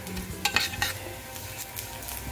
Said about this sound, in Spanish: Ahorita lo vamos a hacer que se dore un poquito.